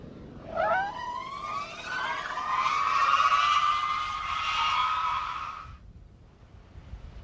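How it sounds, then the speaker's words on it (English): A police car makes a panic stop without ABS, its locked tires skidding and squealing in a loud, sustained tonal screech that starts abruptly, holds for about five seconds and then cuts off. "the officer will try the same panic stop without the aid of ABS, attempting full wheel lockup"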